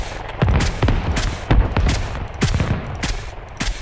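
Helicopter gunfire hits a pickup truck in the video game Squad, loud rapid bursts of shots and impacts repeating in several sharp clusters.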